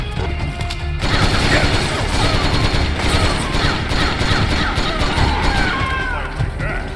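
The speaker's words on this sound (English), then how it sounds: "Where are they actually shooting?" Rapid bursts of gunfire in the video game Metal Gear Solid 4: Guns of the Patriots, loud and dense, run continuously over a busy game soundscape. Voices of players and characters are heard within the noise.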